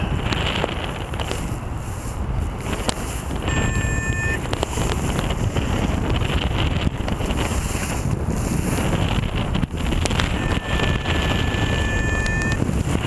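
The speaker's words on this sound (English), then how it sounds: "Getting like southwest wind." Strong southwest wind buffets the microphone during a soaring flight on a thermic day near trees, a loud, continuous, gusting roar that fills the whole clip with faint tonal whistles, with no voices.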